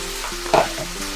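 Capsicum for veg jalfrezi stir-fries in a hot pan, giving a short, close sizzle with one brief stirring scrape in the middle.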